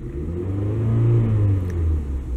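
A 2007 Toyota Camry with a check engine light and lean fault revs as throttle is applied, a close, steady low engine rumble that swells slightly then eases, with no talking.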